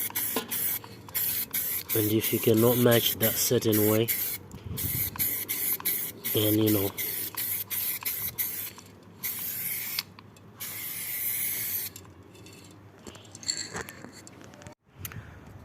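Bursts of aerosol spray paint hiss on and off onto alloy wheels, interrupted by a person talking, with clicks and rattles from the can between sprays.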